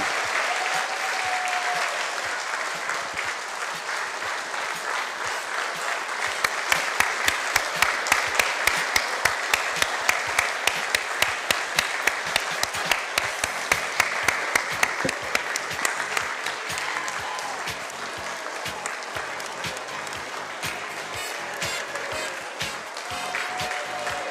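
Audience at a fashion show applauds the models in a loud, sustained wash of clapping lasting over twenty seconds, with sharper distinct claps standing out in the middle and faint voices mixed in.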